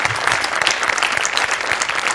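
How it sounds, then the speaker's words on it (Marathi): A studio audience at a Marathi comedy show applauds a performer with dense, even clapping that holds steady throughout. "ऋषिकांत राऊतसाठी स्पेशल टाळ्या व्हायला पाहिजे."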